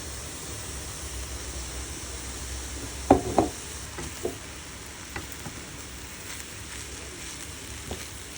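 Rice fries in a pan with soy sauce, salt and pepper for sinangag, giving a steady soft sizzle and hiss broken by a few sharp clicks and scrapes of stirring.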